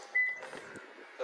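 A 2023 Perodua Alza H unlocks at the door handle with a short electronic beep and soft mechanical clicks, close by, followed by a brief thunk as the handle is touched.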